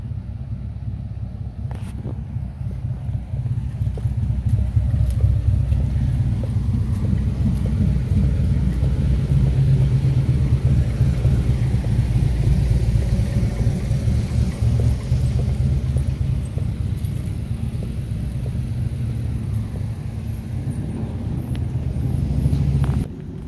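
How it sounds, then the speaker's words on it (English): Road traffic in a small downtown in Kingston, Tennessee: a steady low rumble of passing vehicles holds for over twenty seconds, swelling and easing slightly without any talk. "I really do not feel like trying to cross the traffic over there"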